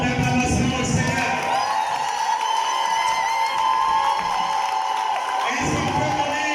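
Church congregation at a French-speaking wedding service cheering and acclaiming, a sustained loud crowd roar with shouts and whoops, dipping slightly mid-clip before swelling again near the end.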